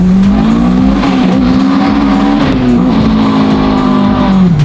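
A Lamborghini Aventador SVJ accelerates hard with a loud, close engine roar. The pitch climbs steadily, dips briefly at a gear change and climbs again, with no talking.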